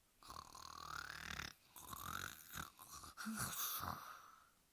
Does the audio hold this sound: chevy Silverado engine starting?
no